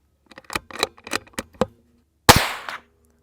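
A suppressed .22LR firearm fitted with a Dead Air Mask suppressor fires once, a sharp close crack with a brief fading tail, preceded by a series of light mechanical clicks and handling taps.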